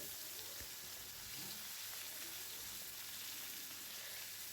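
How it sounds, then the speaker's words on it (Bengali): Steady, dense sizzling of steamed cauliflower frying in hot oil, continuous and fairly quiet throughout with no voices. "ভাপিয়ে রাখা ফুলকপি তাড়াতাড়ি ভাজা হয়ে যায়"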